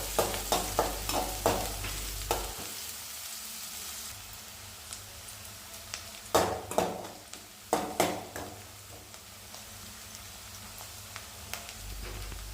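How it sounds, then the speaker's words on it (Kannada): Onions and green chillies frying in oil in a pan, a continuous soft sizzle broken by sharp scraping stirs in bursts, close and fairly quiet. "ಈರುಳ್ಳಿನ ಕಲರ್ ಚೇಂಜ್ ಆಗೋವರೆಗೂ ಚೆನ್ನಾಗಿ ಫ್ರೈ ಮಾಡ್ಕೊಳ್ಳಿ."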